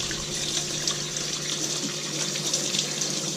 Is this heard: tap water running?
yes